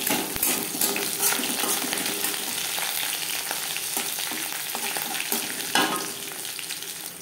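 Dried red chillies and garlic sizzle in hot oil, a dense, steady frying hiss broken by scattered crackles and a few stirring scrapes, close and alone.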